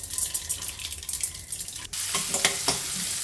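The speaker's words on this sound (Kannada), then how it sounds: "ತೊಂಡೆಕಾಯಿಗೆ ಒಗ್ಗರಣೆ ಕೊಡ್ತಾಯಿದ್ದೀನಿ." Chana dal hits hot oil as a tempering for an ivy gourd curry, with a sudden loud hiss and steady crackling sizzle that continues on, following a few seconds of quieter, fainter frying.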